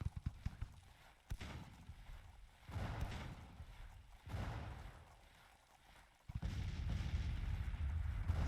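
Scattered musket volleys and artillery fire in the Grand Tactician Civil War strategy game crackle and thump in irregular bursts, sometimes near and loud, sometimes fading, building to a heavier sustained rumble at the end.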